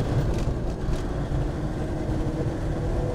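A 1999 Land Rover Defender 110 TD5 diesel driving in second gear, a continuous low rumbling engine and road noise inside the cabin, fairly loud and even for a few seconds, with no speech.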